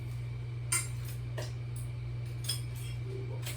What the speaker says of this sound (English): Let me get a fork and a knife.